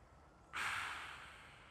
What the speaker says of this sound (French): Et expire avec le nez.